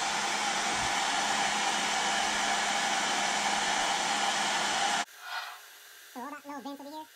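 A hair dryer on its cool setting roars steadily and loudly up close for about five seconds as air is blown into the vents of a DJI Ryze Tello drone after it was submerged underwater, then cuts off abruptly before someone briefly speaks.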